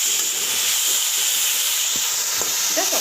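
Oyster mushrooms browning in hot oil in a pan give a dense, steady sizzle and hiss, close and loud, with a few faint clinks near the end and no speech.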